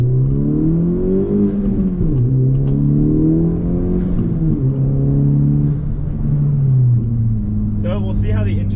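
A car driving, picked up by the internal microphone of a GoPro Hero 13 camera on a bright sunny day; a steady engine drone shifts in pitch throughout, with a voice speaking over it.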